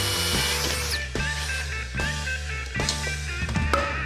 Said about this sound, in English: God, I hate this drill so fucking much